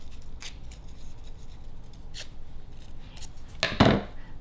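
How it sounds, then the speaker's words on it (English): Scissors curling crepe paper leaves: faint, brief scraping strokes of a blade drawn along paper, a few soft swipes, then one louder, rougher pull near the end, with no talking. "I'm going to go ahead and curl them using my scissors"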